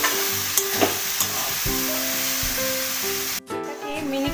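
Bottle gourd and prawns stir-fry in very little oil, a continuous close sizzle broken by a few sharp clicks and scrapes of a spatula against the pan, with a brief dip near the end.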